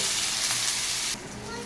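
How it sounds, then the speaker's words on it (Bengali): Potatoes frying in a pan with salt, a steady close sizzling hiss throughout that drops slightly in level near the end. "আলুটাকে বেশ ভালো করে ভেজে নেবো বলে"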